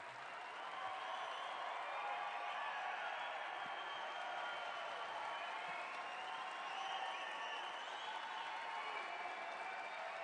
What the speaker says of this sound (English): I'm not going to stop the applause.